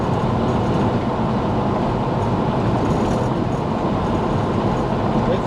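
A Chevrolet El Camino's engine cruising steadily at 2,800 RPM on a rough road, a loud continuous low rumble and road roar from inside the cab with no change in pace.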